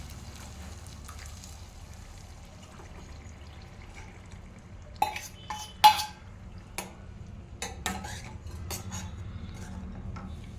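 Gongura dal simmering in a pot over a low bubbling rumble, then a cluster of metal ladle clinks and scrapes against the pot midway, near and without talk.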